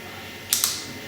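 Two quick sharp clicks from a dental implant wrench during an implant placement procedure, close and fairly crisp, with no talking.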